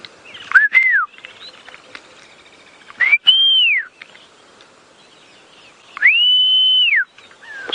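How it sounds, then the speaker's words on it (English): Three clear whistled notes ring out with gaps between them: two short rising-falling chirps, then a longer held tone. "I thought I heard Herbert whistling at us."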